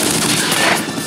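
Gunfire in the video game Uncharted: Drake's Fortune: a loud, rapid burst of shots blending into dense crackling, close and continuous for about a second.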